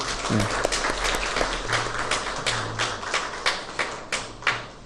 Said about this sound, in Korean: 우리 다시 한번 격려의 박수 하겠습니다.